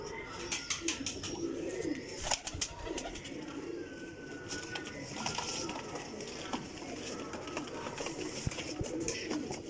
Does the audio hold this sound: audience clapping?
no